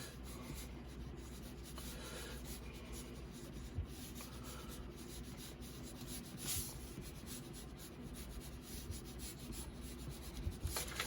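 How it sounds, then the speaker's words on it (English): Pencil drawing a simple stick figure on paper, faint, continuous close scratching and rubbing strokes with small rhythmic bursts, quiet and steady with no talking. "So we draw stick figures."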